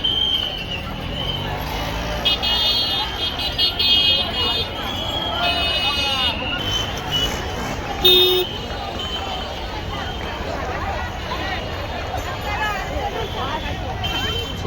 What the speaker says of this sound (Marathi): खूप ट्रॅफिक झाले आहे